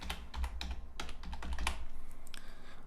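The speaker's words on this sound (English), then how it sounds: "type in keywords." Keys clatter on a computer keyboard while keywords are typed into a meta tag field, a quick irregular run of close, crisp taps over a low hum.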